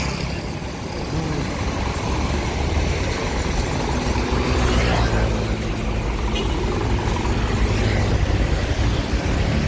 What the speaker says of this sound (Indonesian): Lalu lintas padat.